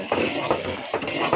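A spoon stirs semolina around a cooking pot to keep lumps from forming, giving a close, steady scraping swish with a few rhythmic strokes and no talk.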